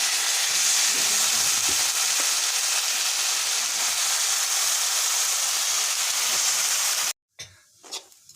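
Lentils for khichuri frying in hot oil in a wok, giving a steady bright sizzling hiss that holds evenly for about seven seconds before cutting out abruptly, followed by a few faint clatters.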